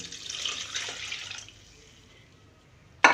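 Water poured from a bowl into a cooking pot while making chicken nihari gives a steady, splashy rush for about a second and a half, then fades, followed by a sudden sharp splash or clatter near the end.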